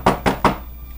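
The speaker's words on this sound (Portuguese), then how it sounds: "Deixa eu bater na porta." Three evenly spaced knocks on a door in the video game Minecraft, crisp and close, followed by a brief quiet tail.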